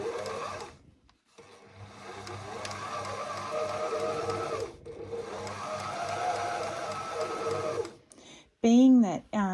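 A Baby Lock BL101 blind hemmer with an HA x 1SP size 11 needle runs a chain stitch, whirring in two sustained close bursts separated by brief pauses, followed by a short voice near the end.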